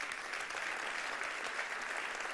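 Church congregation clapping together, a dense, steady wash of applause from many hands that fills the room without pause.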